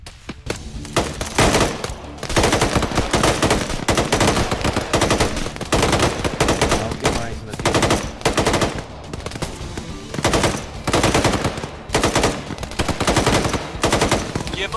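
Jeep-mounted machine gun fire in Arma 3, long, loud, rapid bursts of automatic fire that run almost without pause, dropping out only for brief gaps between bursts.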